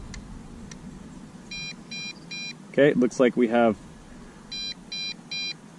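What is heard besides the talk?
MJX Bugs 5W drone low battery alarm beeping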